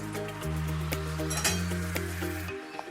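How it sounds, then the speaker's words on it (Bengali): Whole garam masala of cardamom, cinnamon, cloves and dried red chillies sizzles in hot oil in a wok, a steady close crackle with scraping stirs and light metal clinks, no voices. "তেলের মধ্যে আমি দেব গোটা গরম মশলা, 3টে এলাচ, একটু দারচিনি, 4-5টা লবঙ্গ আর 2টো শুকনো লঙ্কা"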